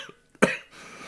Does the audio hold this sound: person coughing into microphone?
yes